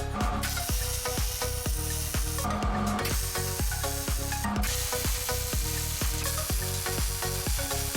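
Steel welding on a safety chain mount for a Dodge flatbed: a steady, loud crackling sizzle runs the whole time, with rapid regular pops and a few brief pauses in the arc.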